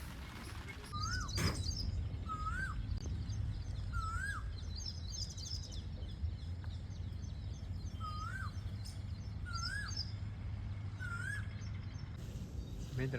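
Pigeons and parrots call, heard as about six short rising whistled notes at fairly regular intervals. The calls are quiet and sit over a steady background hiss.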